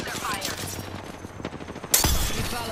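Gunfire in the Apex Legends video game, dense bursts of shots through the first half then a sharp loud burst near two seconds, with a voice talking over the action.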